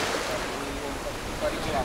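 Sea waves wash along the shore at Alanya, Turkey, in April: a soft continuous rushing surge with some wind noise on the microphone.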